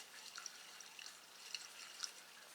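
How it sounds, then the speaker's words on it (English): Water trickles and drips faintly into a plant container holding Perlite, soft scattered splashes and light droplets spread over a quiet background. "let me put a little more water in here"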